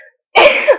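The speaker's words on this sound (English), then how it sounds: "I have this horrible cough" A single loud, close, harsh cough from a person with a dry, unproductive cough, abrupt and brief with nothing else around it.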